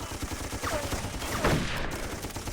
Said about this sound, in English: Running into machine gun fire, kinda not good.